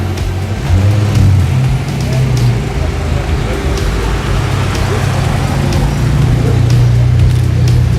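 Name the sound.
rally car starting off at the start line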